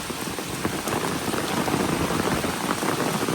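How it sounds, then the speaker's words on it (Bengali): Rain falls steadily on a village, a dense even patter of drops on surfaces close around, unbroken for the whole stretch with no voices. "বৃষ্টি পড়ুক সমস্যা নাই"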